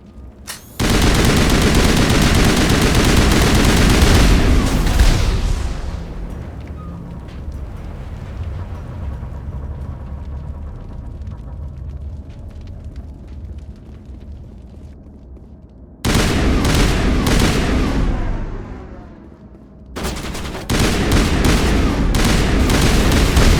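Gunfire in the video game Mass Effect, loud sustained bursts of automatic weapons fire with booming impacts, broken by short lulls before the shooting resumes close and intense.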